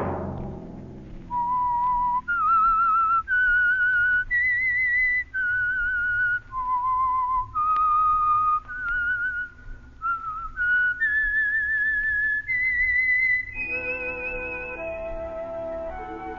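A person whistles the theme melody of the radio mystery series The Whistler, bright and steady, each note clear and sustained, climbing and falling in a tune-like phrase.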